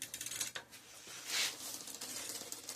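Gear shifter on a 1990 Trek 730 bicycle, a few faint light metallic clicks spread over a quiet background, with no voices.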